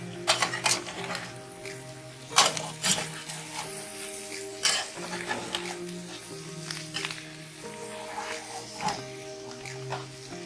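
A spatula stirs spicy sliced potatoes topped with cilantro leaves in a pan, producing irregular scraping clinks and knocks against the metal, some sharp and close, over a low steady background hum.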